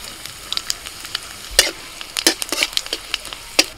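Black cumin seeds frying in hot oil alongside whole garlic and dried red chillies, a steady close sizzle broken by sharp spatula scrapes and clicks against the pan at irregular intervals, with no voices.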